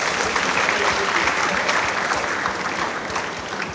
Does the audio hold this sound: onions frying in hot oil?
no